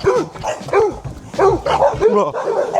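A small dog barks in a quick series of sharp, high yaps with brief pauses, close and loud, just before setting off on a run outdoors.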